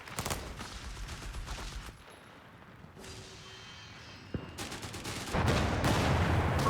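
Machine gun fire in the Company of Heroes 3 real-time strategy game comes in fairly quiet rattling bursts, one run at the start and a denser one near the end, with a lull between.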